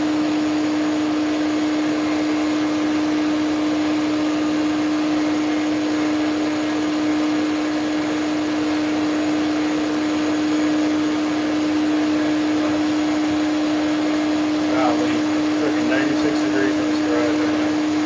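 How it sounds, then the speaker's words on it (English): A vacuum cleaner runs continuously alongside a fan indoors, a loud steady whine and drone holding for the whole stretch. "It's like pointless for me to even have that vacuum on with the fan too."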